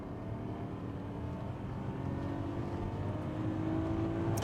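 BMW E34 525i straight-six pulling hard in second gear, a steady low engine drone with a rising harmonic as revs climb, heard from inside the car without talk.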